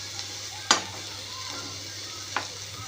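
Snake gourd vegetable cooking in a pan with a steady sizzle and two sharp stirring scrapes of a spoon against the pan.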